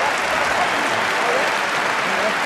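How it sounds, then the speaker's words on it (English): A rugby stadium crowd at the 2007 Scotland versus Portugal match in Saint-Étienne applauds loudly and steadily, a continuous wash of clapping from many hands for the whole stretch. "A big applause for his player"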